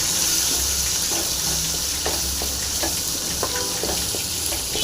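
Mustard seeds crackle and sputter in hot oil in a pan while cooking a Tamil gherkin pickle, a steady bright sizzle with scattered pops running throughout, no talking.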